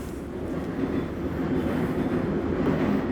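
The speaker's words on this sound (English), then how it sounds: "That's the J train." A New York J subway train rumbles past outside, a steady loud low roar with faint rail clatter that holds throughout the few seconds.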